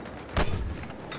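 Mortar round firing in Battlefield 6, a single heavy thump with a short booming tail over the ongoing battlefield din.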